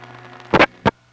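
PCI DC signaling on a telephone trunk from a crossbar tandem in a 1974 Belle Harbor, Queens exchange: a steady line hum broken by a loud double thump and then one sharp click burst.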